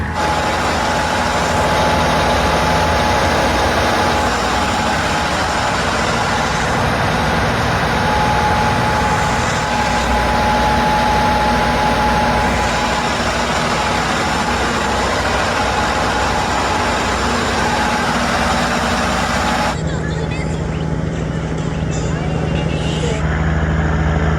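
Loud, steady low boat-engine drone fills the engine room, a constant mechanical rumble with a faint tonal whine, continuing throughout without pause.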